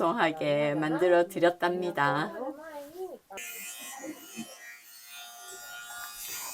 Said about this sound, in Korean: 지금 면도를 해드리는 소리가 들리시죠?